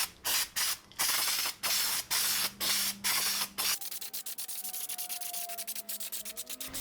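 Rubberized undercoating sprayed from an aerosol can onto a solar panel roof rack, a series of loud short hissing bursts close by, followed by the rapid rattling clicks of the can being shaken.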